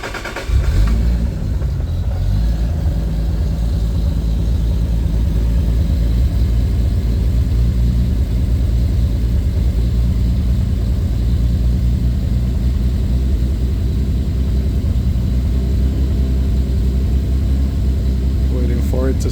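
Steady, rumbling idle of a Toyota 2JZ-GTE engine swapped into a Lexus IS300, caught just after first start-up with timing-controlled idle, close and continuous with a low throb for the whole stretch.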